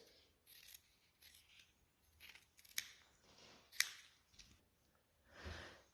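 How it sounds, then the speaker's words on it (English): Quiet, close snipping of scissors slicing through fabric, a few soft cuts with gaps between, and two sharper clicks of the blades. "I am now going to cut it out using my dressmaking scissors"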